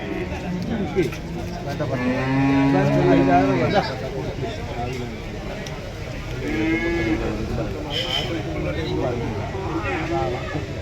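Buffalo lowing in long, drawn-out moos amid a noisy crowd at a cattle market, with people talking over the animal calls throughout.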